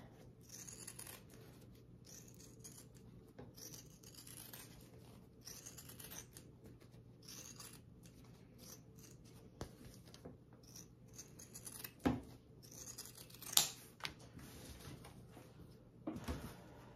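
Scissors trimming the side edges of a fabric bag flap, faint snips and rustling cloth close by with a steady low hum behind, with a few sharper clicks near the end.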